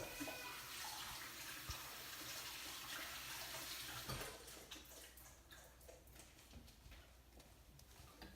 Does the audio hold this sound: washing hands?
yes